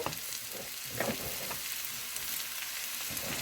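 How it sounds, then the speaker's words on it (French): Green cabbage, bell pepper and courgettes hit a hot pot for a detox soup, giving a steady close sizzle and frying hiss with soft stirring knocks and scrapes, no talk. "on va mettre les autres légumes, donc chou vert, poivron, courgettes"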